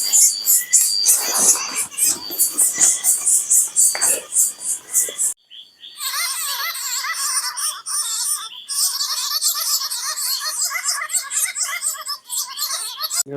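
A person imitates bat calls at night, making rapid high-pitched squeaky chirps and twittering trills, close and fairly loud, with a brief pause midway and faint other sounds underneath.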